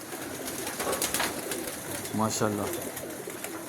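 A fancy show pigeon gives a close, soft rolling coo midway, over steady background noise, while someone speaks briefly.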